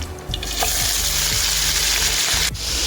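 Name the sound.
mutton frying in ghee for charsi karahi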